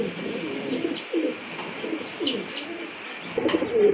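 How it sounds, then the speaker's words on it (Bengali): A pair of pigeons kept for sale coo repeatedly in soft, throaty bursts, close and fairly loud, with light chirps and rustling between calls. "অস্থির এক জোড়া কবুতর"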